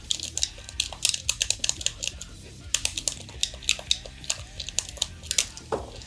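Buttons on a Guilty Gear Xrd PlayStation controller are pressed in quick succession, a string of soft, close tapping clicks with uneven rhythm, with someone speaking faintly.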